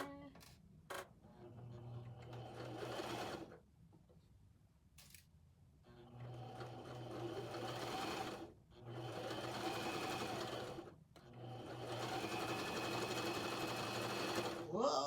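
A sewing machine stitches fabric in several bursts of steady whirring and clatter, separated by short pauses and small clicks, with someone talking quietly in between.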